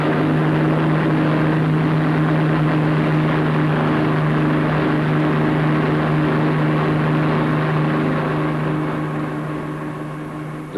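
A heavy 60-ton bomber loaded with about 22,000 pounds of bombs and 20,000 gallons of fuel taking off, its engines giving a loud, steady droning roar that fades slightly toward the end.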